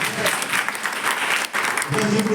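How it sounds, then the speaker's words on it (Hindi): A crowd at a Rotary Club event held with a senior secondary school breaks into lively, sustained clapping. Voices are audible over the applause, which briefly dips before picking up again. "एक बार जोरदार ताली आपके लिए"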